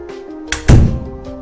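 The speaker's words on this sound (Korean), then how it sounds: "그리고 전 냅다 문을 닫았습니다." A single door slammed shut, one loud thud right after a quieter knock, with a faint trailing rattle in an otherwise quiet room.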